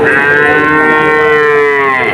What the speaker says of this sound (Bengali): এই হলো শাহিওয়াল জাতের বাছুর